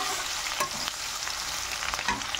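Onion pieces frying in a pan for a ridge gourd (turai) vegetable dish give a steady, loud, close sizzle with a few brief stirring scrapes mixed in.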